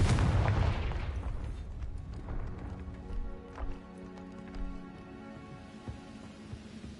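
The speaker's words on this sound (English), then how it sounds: "Confringo!" A big blasting explosion from a Confringo curse in the video game Hogwarts Legacy, a heavy boom up front that rolls off into a long fading rumble with a few smaller thuds after it.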